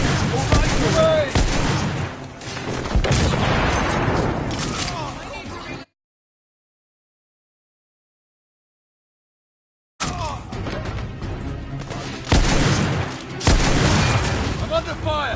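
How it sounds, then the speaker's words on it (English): Heavy gunfire rattles in the video game The Order: 1886 as loud bursts and booms crowd each other, broken by a silent gap midway before the shooting resumes, with shouted voices mixed in. "I'm under fire!"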